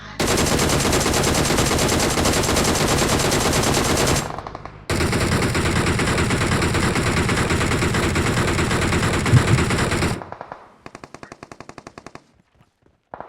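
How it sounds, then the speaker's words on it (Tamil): Gunfire from an opposing team in a multiplayer shooter video game: long, loud bursts of rapid automatic fire, a short pause, another sustained burst, then scattered fading shots. "ஏய் பின்னாடி இன்னொரு டீம். அவங்க ஷூட் பண்றான் பாரு."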